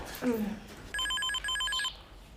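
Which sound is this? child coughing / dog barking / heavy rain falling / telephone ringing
telephone ringing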